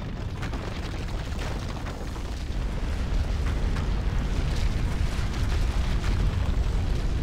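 A seal is destroyed in Castlevania: Lords of Shadow, a dense rumbling roar of explosive crumbling that builds in loudness and continues steadily, with sharp crackling bursts scattered through it.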